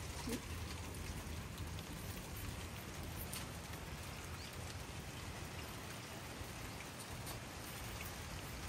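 Steady rain falls, soft and even, with scattered drops pattering on a surface and no voices.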